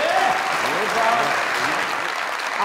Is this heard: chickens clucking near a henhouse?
no